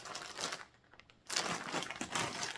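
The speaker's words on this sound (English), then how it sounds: "She has it in a plastic bag." A plastic bag crinkles and rustles up close as it is opened, in short bursts of crackling with a brief pause in the middle, quiet overall and with no talk.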